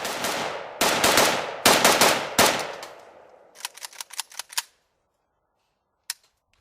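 Valmet M62S AK rifle firing: four loud spaced shots with echoing tails, then a quick burst of about six sharper reports and one final isolated shot.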